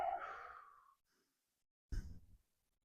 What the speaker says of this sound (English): Let's take another collective breath.